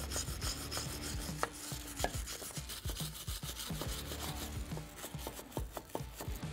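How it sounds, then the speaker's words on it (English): Stiff wire brush scrubbing back and forth across a wheel hub face and around the wheel studs, a steady close raspy rubbing with sharp scraping strokes and small metallic knocks, continuous throughout with no talking. "we're going to start out with a wire brush here. We're just going to work our way in and around these wheel studs."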